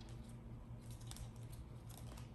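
Playing cards are handled in a Sybil Cut, a fancy cut done by a magician, giving soft rapid paper clicks and light snaps in a quiet room, close and faint with no voices.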